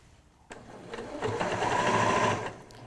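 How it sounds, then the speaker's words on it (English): A sewing machine stitches a summer tote bag in a short steady burst, starting abruptly and whirring at an even pace close up before stopping, with no talking. "And then just back stitch there to lock those stitches in"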